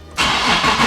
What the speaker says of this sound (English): I have to start this car